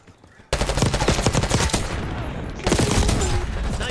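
Dense, loud automatic gunfire from a Black Ops 6 deathmatch, rapid shots rattling nonstop after a quiet half-second opening, briefly easing midway before a fresh burst.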